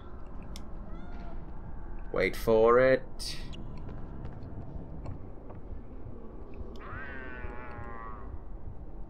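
A cat meows in the PS1 video game Harry Potter and the Philosopher's Stone, with two loud nearby yowls early on and a fainter, drawn-out meow later, over steady game ambience while someone speaks briefly.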